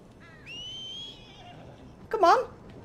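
A horse in Red Dead Redemption 2 whinnies once, a short loud neigh with a quavering pitch, after a rising whistle-like tone and under a faint game ambience.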